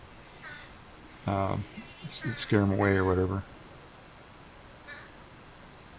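Territorial wild crows near a hiking trail in Orford, New Hampshire, give a few faint, distant caws before and after someone speaks close by.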